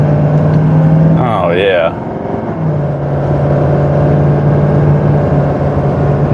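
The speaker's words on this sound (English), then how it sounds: "So this truck just got up to highway speed and I was probably not even half throttle." A 2019 Ford F-250 Super Duty with the 6.7 engine accelerates up to highway speed at part throttle, a steady loud drone heard from inside the cab, with a short spoken exclamation partway through.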